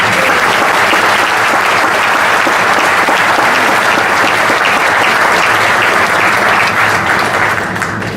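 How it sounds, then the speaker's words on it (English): Loud, dense applause from a crowd at the groundbreaking of a CSX intermodal rail terminal, a continuous roar of clapping held at full strength before easing slightly at the end. "let's give a round of applause to everyone involved in that project"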